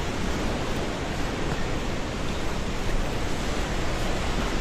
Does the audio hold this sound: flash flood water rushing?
yes